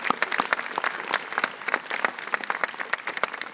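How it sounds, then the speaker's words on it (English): Steady crowd clapping from a high school graduation audience, many hands producing a dense, continuous patter of claps at moderate loudness with no speech over it. "we can clap for that"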